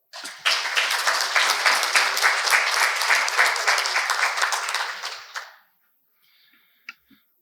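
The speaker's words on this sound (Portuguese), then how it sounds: "Hoje eu peço calorosamente uma salva de palmas para o nosso Michel Chalala." An audience at an academic inauguration ceremony claps warmly in a sustained burst of applause lasting about five seconds, then fades to near silence with a couple of isolated claps.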